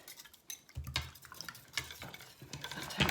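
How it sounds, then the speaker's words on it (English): Eggs, milk and flour whisked in a mixing bowl for a turkey casserole batter, with a steady run of close scraping and tapping strokes against the bowl, picking up pace and growing louder near the end. "Right, whisk the eggs, milk and flour."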